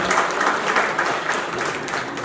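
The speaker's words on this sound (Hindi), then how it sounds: "जोरदार तालियां हो।" An audience at a book release applauds steadily, a dense wash of many hands clapping together throughout, fairly loud and without speech.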